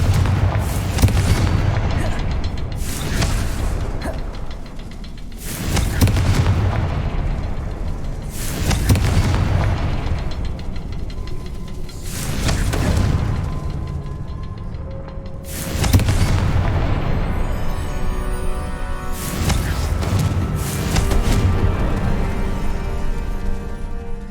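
Confringo fire-spell blasts go off in the Hogwarts Legacy video game as a series of heavy booming explosions. Six or seven of them come every few seconds, each loud with a rumbling decay, over a steady game soundscape.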